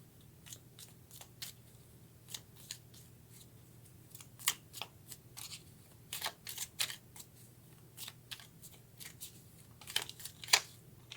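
Tarot cards being shuffled and drawn by hand, heard as a quiet, close run of crisp riffling snaps and flicks in irregular bursts, growing busier toward the end, with no talking.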